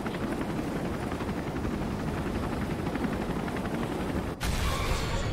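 A helicopter in the Resident Evil 3 video game gives a continuous, dense rotor roar, mixed with rattling gunfire-like bursts, before a brief dropout and a sharper return.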